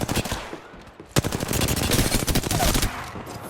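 Gunfire in Apex Legends rattles loud and close, one sharp shot and then a dense, sustained automatic burst lasting a couple of seconds.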